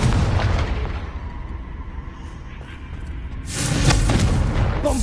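A Confringo fire spell goes off in Hogwarts Legacy as a loud, booming burst that fades over a couple of seconds before a second roaring surge.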